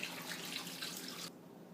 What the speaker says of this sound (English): Next we're going to add some water,